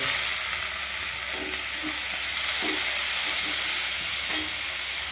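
Kurdai frying with onion in a pan, turmeric and salt already added, giving a steady loud sizzle and hiss with occasional soft stirring scrapes, no one speaking.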